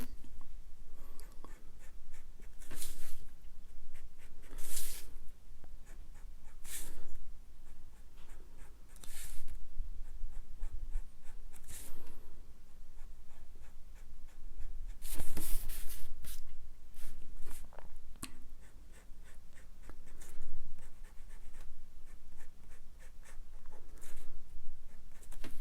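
A pen inks a Spider-Man comic drawing with tight linework, producing quiet, steady scratching strokes punctuated by brief louder scrapes, close and soft throughout.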